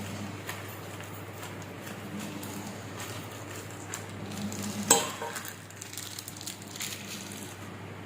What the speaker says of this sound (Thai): ตีไข่ให้เข้ากัน